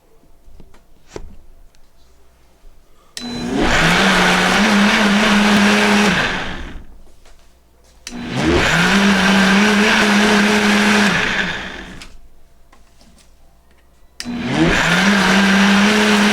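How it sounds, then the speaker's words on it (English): A kitchen blender whirs in three loud bursts blending homemade condensed milk, with short quiet pauses between each run; no one speaks while it runs. "You want to blend it until there's no more sugar in it"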